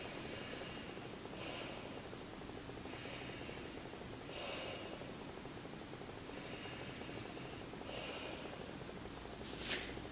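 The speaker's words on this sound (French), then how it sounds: "4 respirations." Slow, audible breaths during a prenatal yoga session, with soft airy inhales and exhales repeating every couple of seconds, quiet and close, with no talk.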